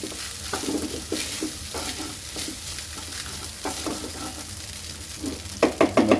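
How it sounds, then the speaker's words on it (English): Rice frying in a pan over high heat for a saucy fried rice, with a steady loud sizzle, regular scraping stir strokes, and a burst of sharper clattering strokes near the end. "Put the high heat on, so fry the rice."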